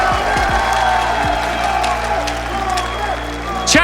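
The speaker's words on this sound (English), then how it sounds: "One more ovation from the crowd here" Crowd noise from the arena audience at a Rainbow Six Siege Atlanta Major grand final, LOS versus W7m, a steady loud roar of cheering and whoops under a commentator's voice, with a brief burst near the end.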